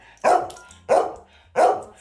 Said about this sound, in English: I like to make noise, just like my dog is right now.